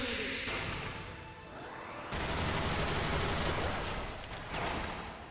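Rapid gunfire from the G shot special attack in the Xenosaga III video game, a dense burst of shots over loud game effects that runs nearly continuously and then surges again.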